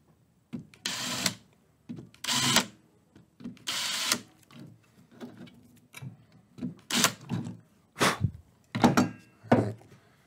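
Power drill chamfering holes in a workpiece, short bursts of whirring at irregular intervals, close and fairly loud, with quiet handling noises between each pass.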